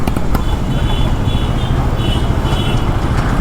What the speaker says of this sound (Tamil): ஐயோ, திரும்பவும் டிராஃபிக்கா.